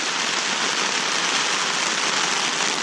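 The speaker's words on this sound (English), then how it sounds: "Now the rain's really coming down." Steady, dense hiss of heavy rain pouring down continuously on a campsite, loud and close with no pauses or voices.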